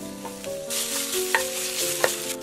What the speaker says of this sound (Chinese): 锅里面不用放油，把五花肉放进去煸炒